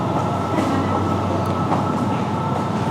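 An Elizabeth line train at a London station produces a continuous loud rumble with faint rail clatter, a steady dense roar without pause.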